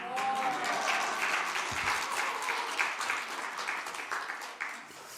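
Church congregation clapping during a Sunday worship service, a dense, steady patter of many hands filling the room, fairly near, with a faint voice briefly audible early on.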